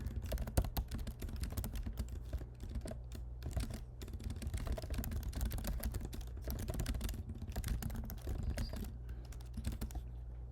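Continuous typing on a computer keyboard, a dense run of close, loud key clatter with steady rhythm and no talk throughout.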